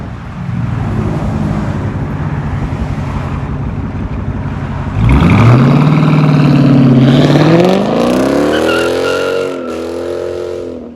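A 2016 Dodge Challenger with a six-speed manual and its mufflers removed idles with a loud, rough rumble, then roars hard as it accelerates, the engine note climbing steadily and shifting gears, close and continuous with no talk.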